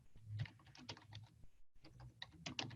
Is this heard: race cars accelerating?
no